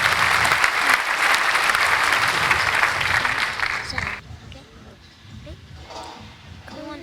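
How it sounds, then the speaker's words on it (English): An outdoor festival talk-show audience at All Points East claps in sustained, loud applause for about four seconds, then it cuts off abruptly and voices talk quietly afterward. "I'll give you a round of applause"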